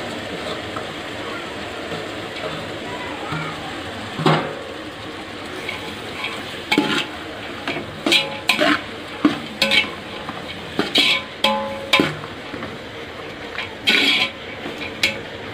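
Beans and cabbage sautéing in hot oil in a pan while being stirred, a steady soft sizzle broken by repeated clattering scrapes of a spoon against the pan, growing more frequent in the second half, with no talking.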